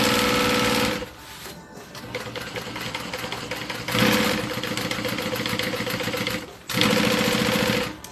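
A sewing machine stitching a bag project along a marked pattern runs in three loud, even motor bursts: a short one at the start, then two longer runs after a quieter pause, with no speech.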